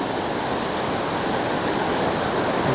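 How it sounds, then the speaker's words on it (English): Shallow river water rushes quickly through Cataract Gorge, a loud, steady broadband roar of flowing water that fills the whole stretch without pause. "the water's, you can see, quite shallow here, but moving quite quickly"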